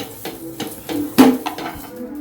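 Masala thalipeeth being placed into a hot box container, a few light clinks and taps of the lid and vessel with one sharper knock in the middle.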